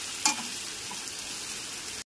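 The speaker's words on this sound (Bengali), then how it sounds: "হালকা বাদামি করে পেঁয়াজ কুচিগুলোকে ভেজে নেব।" Chopped onions fry on a medium gas flame in a pan for chicken korma, a steady broadband sizzle with one brief clatter of stirring near the start, close and fairly loud, with no talking.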